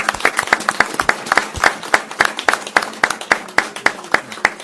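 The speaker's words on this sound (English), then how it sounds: "applause to the seniors that are here" A small crowd at a county commissioners court claps for the seniors present, a sparse, rhythmic patter of distinct individual hand claps close by, fairly loud and even.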